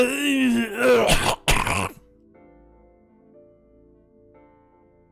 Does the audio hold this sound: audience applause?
no